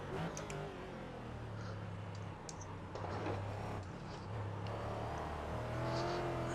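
A GT race car in the iRacing sim accelerates with a steady engine drone that builds in revs, along with faint clicks and whirs close by.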